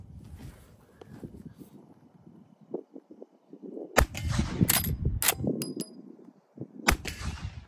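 Shots from a Henry .45 Long Colt rifle strike a steel brake drum outdoors, two sharp reports each followed by a ringing metallic clang, with quieter handling noises and rustling in between.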